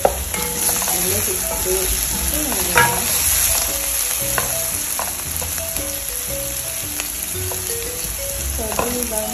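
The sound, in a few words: bacon frying and sizzling in a pan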